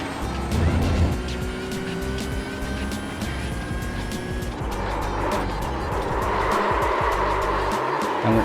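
In iRacing, a Porsche 992 Cup car brakes hard and locks its wheels, with a strained, droning engine note over rising tire squeal and scrubbing noise that swell toward the end, a voice faintly present beneath.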